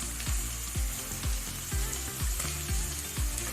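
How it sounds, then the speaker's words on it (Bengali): Browned onion fries in a pan with garlic paste and ginger paste, a close steady sizzle broken by repeated low scraping knocks as the mixture is stirred. "পেঁয়াজটা আমার লাল লাল করে ভাজা হয়ে গেছে। এর মধ্যে দিয়ে দিলাম 2 চামচ রসুন বাটা, আর দিয়ে দেবো 2 চামচ আদা বাটা।"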